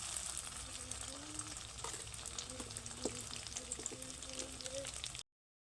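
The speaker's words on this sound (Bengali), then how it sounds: "তেলের কড়াইতে দিয়ে দিলাম" Chicken tikka pieces fry in an oil-filled pan, a continuous soft sizzle and crackle with faint clinks and tonal squeaks beneath, fairly quiet and close, ending in sudden silence.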